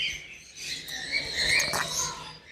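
Birds chirping and singing in an aviary at the Qom bird garden, several bright overlapping calls rising and falling at moderate distance, with no talk.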